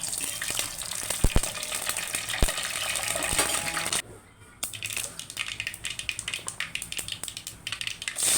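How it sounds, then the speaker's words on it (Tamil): Mustard seeds, urad dal and dried red chillies spluttering in hot oil in a pan, a steady crackle of small pops and sharp ticks with a brief lull midway. "கடுகு நல்லா பொரிஞ்சு வரட்டும்"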